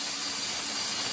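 A bidet knob is turned, giving a short run of faint, rapid mechanical ratcheting clicks over a steady hiss of running water.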